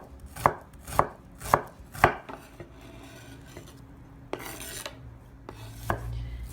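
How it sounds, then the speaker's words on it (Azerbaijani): A knife chopping onions and herbs on a board, with four loud, evenly spaced strokes followed by softer, scattered cuts. "Göyərtiləri xırdalayırıq."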